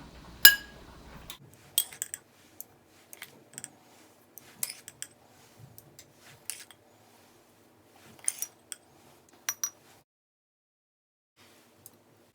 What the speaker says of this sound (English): I'm now adding 1 teaspoon of Fiesta Ranch dip mix to each pint-sized jar